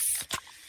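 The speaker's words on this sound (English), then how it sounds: "that's the sound of a freshly opened fizz-filled Pepsi" A freshly opened can of fizzy Pepsi gives a short, close hiss with a brief burst of spray, heard alone.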